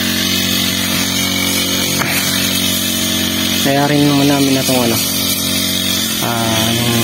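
A grass cutter engine drones steadily and loudly throughout, with a faint rise and fall in pitch. A person talks over it.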